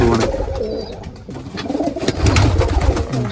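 Pigeons kept in a village loft coo close by in repeated soft, throaty rolling calls that overlap one another, with no talking.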